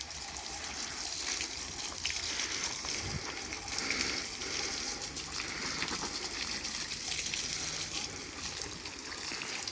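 Running water gushes steadily over a car part being washed during a deep clean of a Volta VSM, a continuous broadband splashing and trickling close by that holds fairly even throughout with no talking.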